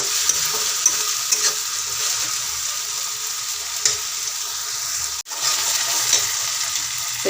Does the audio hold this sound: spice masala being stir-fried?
yes